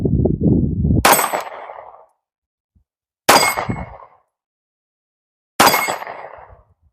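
Three loud pistol shots ring out at spaced intervals, each ending in a bright metallic clang from a 6-inch steel target and a decaying ring outdoors.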